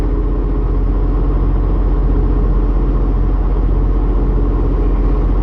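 A semi truck's diesel engine idles steadily after a hard start, a loud, continuous low rumble heard from inside the cab with no other sounds.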